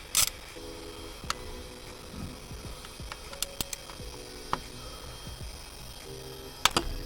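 A Honda K20 gearbox shifter on an eighth-generation FN2 Type R, with an upgraded detent and shifter spring, gives a few soft scattered mechanical clicks and ticks over a quiet workshop background.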